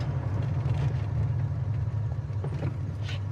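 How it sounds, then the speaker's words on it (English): A 1971 Pontiac Grand Prix engine idling steadily at a stop sign, a low, even rumble heard close up with faint mechanical ticks on top and no talk. "Idle's nice here at the stop sign."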